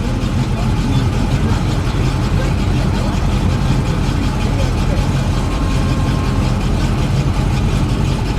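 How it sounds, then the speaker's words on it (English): A car engine with a rough idle gives a loud, continuous, close-up rumble with a slightly uneven throb that holds steady from start to finish. "So it's got a little bit of a rough idle right now."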